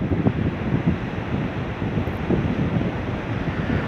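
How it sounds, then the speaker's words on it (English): Ocean waves wash against the shore under steady, gusty wind that buffets the microphone, a continuous close rumble with surges of surf rising and falling throughout. "where I can hear the waves, feel the wind"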